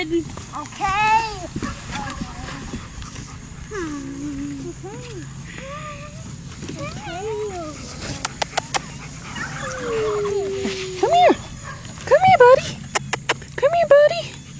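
A puppy whimpers and yips in high, wavering cries and short yelps that recur across the clip, with a few sharp clicks, while people talk nearby.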